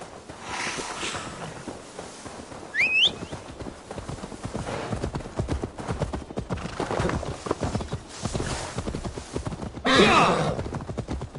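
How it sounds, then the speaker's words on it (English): Steady clip-clop of horse hooves on the ground in Assassin's Creed Valhalla, continuous throughout, with a brief whinny-like cry near the start and a louder burst toward the end. "Now to deliver Magni his horse."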